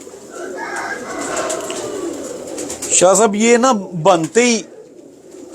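A pigeon coos near the close microphone in a few rolling, throaty bursts, with someone talking over a low background murmur before and between the calls.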